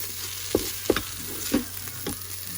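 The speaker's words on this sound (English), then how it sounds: "We're getting some color with just sauteing it." Vegetables sauté in a pan for vegan baked beans, a soft continuous sizzle broken by four or five distinct scraping strokes of a spatula.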